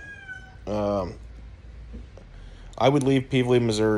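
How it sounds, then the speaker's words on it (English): Cats meow loudly nearby, a drawn-out meow followed by a cluster of repeated whining cries, while someone talks over them. "Freaking cats over there whining."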